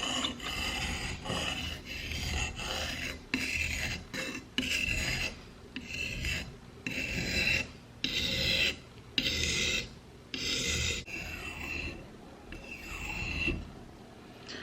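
A dull CS:GO replica knife is sharpened in repeated rasping strokes against a file or stone, each pass loud and close with short pauses between.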